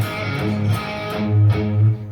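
Chugging, palm-muted electric guitar riff with thick low notes on open A, a few short muted strums repeating in a steady rhythm, no voices.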